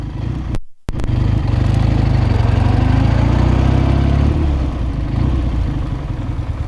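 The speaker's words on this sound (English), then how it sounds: "It has a BMW R71 motor, has been rebuilt, and we're going to take it out for a ride" A rebuilt 1973 Chang Jiang motorcycle powered by a BMW R71 engine rides along, its steady, loud engine drone close and continuous after a brief cut near the start, with no voices.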